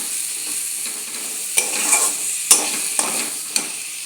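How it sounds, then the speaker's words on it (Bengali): Spiced potatoes fry and sizzle in a pan for an aloo karela dish, with a steady hiss throughout and several sharp scrapes and clinks as the potatoes are stirred with the spices. "আলুগুলাকে মশলার সঙ্গে একটু"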